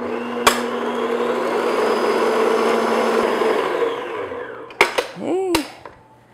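An electric mixer whirs steadily while an egg is beaten into pumpkin pound cake batter, then cuts off and is followed by a few sharp clinks and knocks of bowl and utensils.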